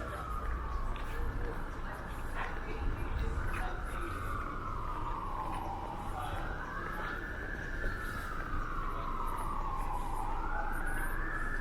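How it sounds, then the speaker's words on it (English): An ambulance siren wails on a downtown Toronto street, rising and falling in slow sweeps for about twelve seconds. It is moderately distant and sits over steady traffic rumble. "I think that's definitely the ambulance responding to that call"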